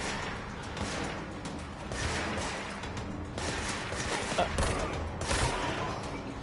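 Gunfire in Control comes as muffled bursts and volleys over a dense, rumbling background of combat, fairly steady and moderately loud, with no voices.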